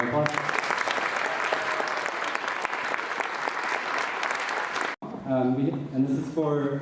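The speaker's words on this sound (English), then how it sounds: "Let's give them one more round of applause." Sustained applause from an audience at a 6th grade promotion ceremony, dense and steady for about five seconds before cutting off, followed by a voice speaking.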